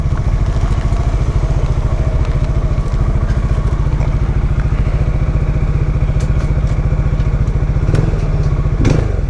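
Benelli TRK 251 motorcycle engine idling close by, a steady loud throbbing pulse with rapid regular firing beats and a few clatters and knocks near the end.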